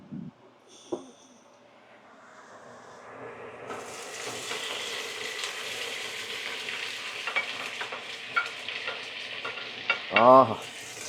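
Sliced onions hit hot smoking oil for a biryani and sizzle steadily, with scraping stirs and a few clinks of a spoon against the pan, close and moderately loud.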